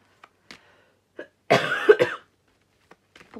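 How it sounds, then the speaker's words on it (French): A single harsh cough, close and fairly loud, breaks a quiet stretch, with a few faint small clicks and breaths before and after; no one speaks. "si je tousse, pardon."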